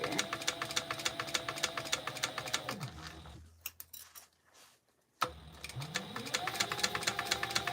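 A sewing machine stitches a crossbody bag in rapid, even mechanical bursts, running for a few seconds, pausing briefly in near quiet, then starting up again at the same fast pace nearby.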